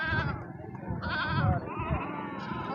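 Mountain goats and dumba sheep bleat repeatedly at a livestock market, several wavering cries overlapping in quick succession with someone talking over them.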